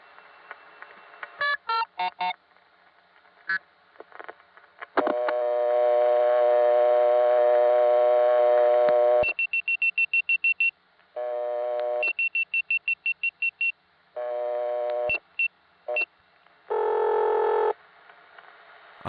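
Telephone test code 511 is dialed on a 1975 line in the 914 area of New York. Loud electronic tones follow: short clicks and bursts, a long steady tone, rapid trains of pulsed beeps, then further tone blocks, with no talking.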